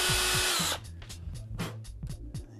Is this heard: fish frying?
no